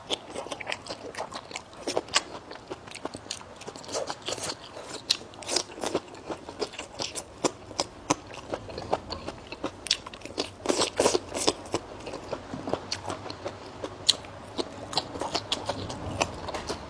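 Someone eats wild fern, producing steady, close crunchy chewing with frequent crisp crackles and bites throughout, and no talking.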